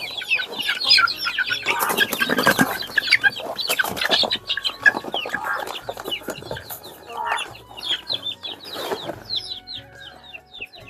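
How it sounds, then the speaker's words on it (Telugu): Large farm chickens eating cut watermelon in summer, a steady stream of close clucking and chattering from several birds, with occasional wing flaps and pecking noises, no talk. "అవి చూడు ఎలా తినేస్తున్నాయి మన పెద్ద కోళ్ళు"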